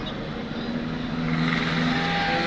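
A truck loaded with sugarcane rumbles past on a motorway between Islamabad and Mansehra, its engine a steady loud drone that swells slightly as it nears.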